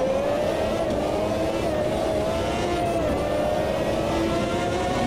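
Historic Formula 1 car engine in the Automobilista 2 racing game, a steady high-pitched drone held at high revs with slight pitch shifts, loud and continuous throughout.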